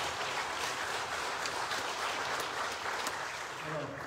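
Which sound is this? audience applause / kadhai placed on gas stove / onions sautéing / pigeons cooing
audience applause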